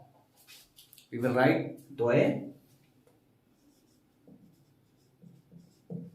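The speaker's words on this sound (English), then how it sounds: "We will write" Pen strokes across paper during a handwriting example, appearing as two louder scratching bursts followed by softer, sparse marks. Quiet room tone sits underneath.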